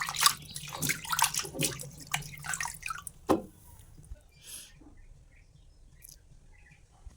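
Beef and liver are washed by hand in water, with splashes and drips clustered at first and then thinning into sparse drops, while birds chirp faintly in the background.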